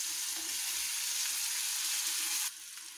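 A pan of vegetables for noodles, including capsicum, is stir-fried lightly in oil and gives a soft, steady sizzle that drops noticeably in level near the end.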